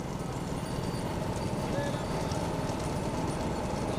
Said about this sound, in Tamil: நடைபெற்றுக் கொண்டிருக்கின்ற சிறிய மாட்டு வண்டி பந்தயத்திலே